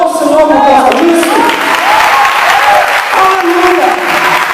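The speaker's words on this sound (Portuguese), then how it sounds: "Aplauda o Senhor por causa disso" A church congregation at a youth worship service claps loudly and continuously, a full, steady roar of hands with voices calling out over it.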